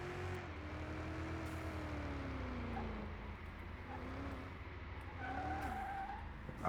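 A car drifts in a hypercar rebuild racing video game, with a steady engine drone under drawn-out tire squeal that rises and falls in pitch across the slide. The sound is continuous and fairly loud, with no talk.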